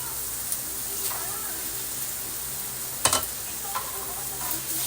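Sotanghon noodles go into a pan of leftover adobo, with a steady broadband sizzle throughout and a few brief stirring clatters, one louder scrape near the middle, close and moderately loud.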